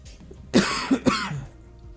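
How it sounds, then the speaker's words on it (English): A person coughs in a quick cluster of about three harsh bursts, close to the microphone and loud against a quiet background, with no talking. "sorry for coughing, guys. I hate coughing."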